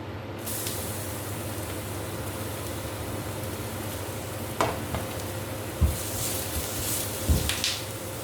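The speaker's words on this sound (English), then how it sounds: "Now I'm going to fry the garlic." Garlic frying in a hot pan for French beans with prawns, a steady low sizzle and hiss running throughout, with a few brief clanks of a utensil near the end.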